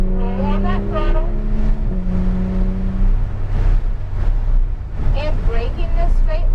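A Porsche GT3 accelerates on the Hallett Racing Circuit, its engine note climbing in steady rising tones under an instructor's continuous coaching voice, with wind and road roar filling the background.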